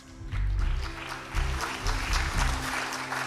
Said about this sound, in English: give a round of applause to Ms.